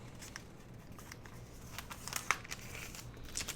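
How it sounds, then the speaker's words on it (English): A paper bag is folded down the center, producing soft, close crinkling and a few sharper paper crackles near the end, quiet and with no talk. "So I've just folded it down the center like that."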